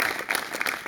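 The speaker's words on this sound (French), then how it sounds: "on peut faire un tonnerre d'applaudissements pour Étienne Notem, qui a fait la scénographie" A crowd at a live sound-themed conference performance gives a dense burst of applause for the scenographer, a full, continuous patter of many hands clapping together.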